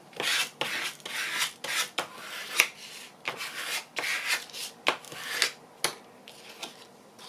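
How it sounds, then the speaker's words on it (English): A hand smoothing down the back of a paper page in a travel journal, a series of close, dry rubbing and brushing strokes in uneven rhythm with a few sharper taps, quiet and alone. "let's just make sure it's all nice and smoothed down at the back"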